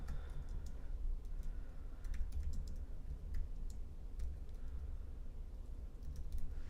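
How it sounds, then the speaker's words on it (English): Computer keyboard typing heard faintly at a distance, a scatter of light irregular key clicks over a steady low background hum. "So let me type that out."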